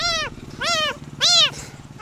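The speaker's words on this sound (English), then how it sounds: "This cat needs a home." A cat meowing three times in a row, loud and close, each call rising then falling, over a faint rhythmic background rumble.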